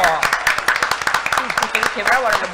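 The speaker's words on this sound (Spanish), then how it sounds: "Aplausos para José Antonio Jiménez" Quick, close clapping rings out for José Antonio Giménez, winner of La Timba Verde, in a short burst of dense applause with people talking and cheering over it.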